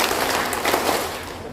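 A group clapping together in a counted rhythm pattern, a short dense burst of many hands sounding at once.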